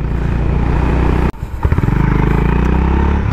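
A Honda Highness CB350 motorcycle being ridden, its engine droning loud and steady up close, with a brief dip and clatter before the engine note picks up again.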